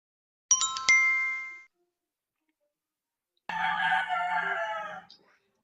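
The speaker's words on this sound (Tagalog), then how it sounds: "Ang daming manok." Roosters crow in two separate bursts in the background, a short shrill call with a metallic ring followed after a pause by a longer, raspy crow, each standing alone against near silence.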